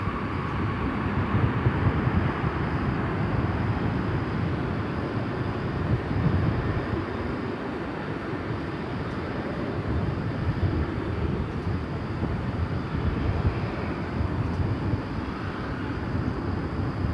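A Boeing 747 takes off at DFW Airport, its engines a broad, steady roar rumbling heavily in the low end and holding loud without pause, with no voices over it.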